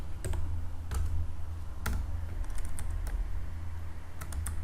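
Quick, irregular keystrokes on a computer keyboard while entering a variable in C code, crisp close clicks in small bursts with a faint steady hum beneath.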